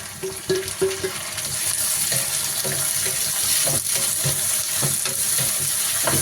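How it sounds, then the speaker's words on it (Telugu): Tomatoes tossed into fried onions for a small fish curry with tamarind leaves, a steady close sizzle and hiss with light stirring scrapes and taps, no talking. "ఎర్రగడ్డ అయితే వేగిపోయింది ఇప్పుడు అందులోనే టమోటాలు వేసేస్తున్నాం"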